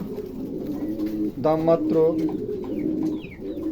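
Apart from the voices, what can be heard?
male fancy pigeon cooing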